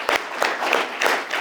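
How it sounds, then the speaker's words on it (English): A short burst of steady audience clapping at a business and leadership event, loud and continuous through the whole moment with no voices over it. "Let's give them a round of applause"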